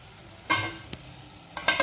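A few short scraping stirs of chopped green onion leaves in a pan, close and fairly quiet, with brief bursts separated by pauses and a faint sizzle underneath.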